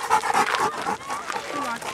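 A dog pants quickly and breathily at close range outdoors by the Danube, while people talk over it.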